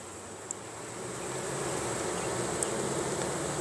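Honey bees buzz around an open hive during an inspection of an old queen's brood frames, a steady, dense hum close by with no voices.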